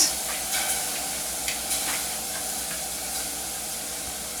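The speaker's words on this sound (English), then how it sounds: "I'm going to toast this farro just a little bit because I want to get it some nice kind of nutty flavor here" Farro grains toasting dry in a pan over low heat give a faint, steady hiss with a few light ticks and scrapes scattered through it, close by and alone.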